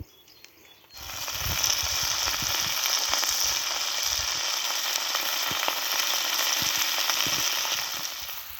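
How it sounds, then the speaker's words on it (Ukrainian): A steady, crackling sizzle of potatoes frying in a pan after pork fat has been rendered in it starts abruptly after a brief quiet moment and continues evenly throughout, close and fairly loud. "Ось так смажиться картопелька"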